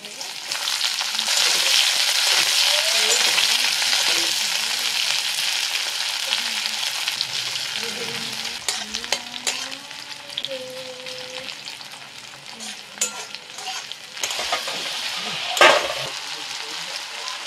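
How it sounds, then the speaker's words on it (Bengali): Chopped onion and garlic frying in a pan with green chillies, a steady loud sizzle throughout, joined by clinks and scraping of stirring toward the end. "রসুনটা ভালোভাবে ভাজা হয়ে গেল, পেঁয়াজটা দিয়ে দিলাম"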